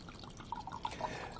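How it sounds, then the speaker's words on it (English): Wine poured into a glass, a brief gurgling trickle with small bright splashes, close and fairly quiet over a low background hum. "So feel free to pour yourself a toast to good health."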